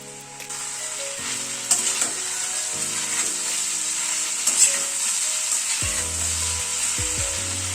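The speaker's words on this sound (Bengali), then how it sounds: "আলু কুমড়োটাকে এই মিনিট 2 মতো একটুখানি ফ্রাই করে নিলাম।" Potato and pumpkin pieces fried uncovered in a pan over raised gas flame, with a steady close sizzle, spatula scrapes and stirring knocks, and a low hum shifting beneath, with no talk.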